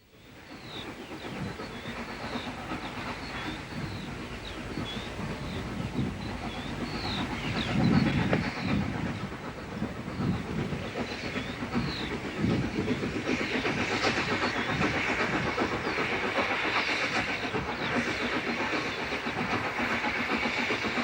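A Southern Railway four-coupled steam locomotive, Stowe, works a train on the Bluebell Railway, giving a steady, continuous chuffing roar with hiss that swells slightly midway and holds at a constant level throughout.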